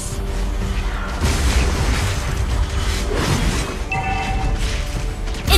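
A turret being destroyed in Mobile Legends, heard as a heavy rumbling boom with crashing debris amid dense battle noise, followed by a short chime near the end.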